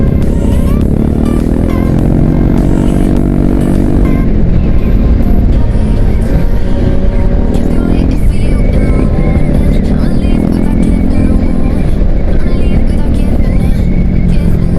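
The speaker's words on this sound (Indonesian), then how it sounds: "kita lewatin dulu ini, ada truk, males kalau di belakang truk" A touring motorcycle on a mountain road pulls out to overtake a truck, its engine loud and close with repeated rises in revs over constant wind rush.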